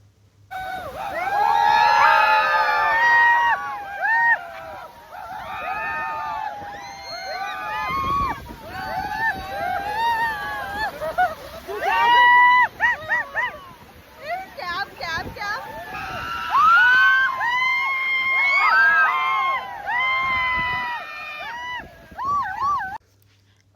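A crowd shouting and whooping aboard a boat near Chitrakote waterfalls in Chhattisgarh: loud, overlapping excited yells and cries rise and fall almost continuously, with wind buffeting in the background.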